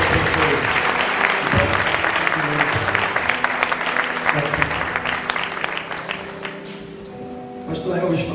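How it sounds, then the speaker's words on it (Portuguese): A church congregation applauds in praise of Jesus at a pastors' council gathering, steady clapping filling the space before tapering off near the end, with some voices mixed in. "E vamos aplaudir ao Senhor Jesus"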